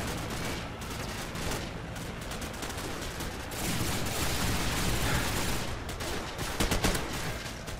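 Dense automatic gunfire in a Call of Duty MW mod match, rapid bursts and sustained rattling fire with overlapping shots, loud and continuous throughout.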